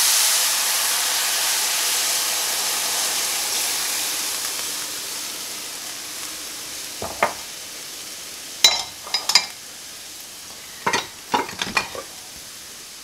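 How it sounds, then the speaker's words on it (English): Hot goulash pan deglazed with beef broth, a loud steady hiss of steam and sizzling that gradually fades, followed by scattered clinks and scrapes of a utensil against the pan. "we are gonna deglaze our pan with your liquid. I'm using 4 cups of beef broth."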